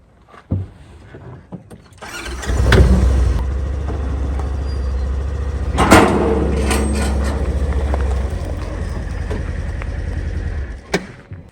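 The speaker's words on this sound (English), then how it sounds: "Let's start this vehicle." Vehicle with a Polaris Glacier Pro HD plow system mounted, starting with a brief crank and settling into a loud, steady low idle, close by, then shutting off near the end.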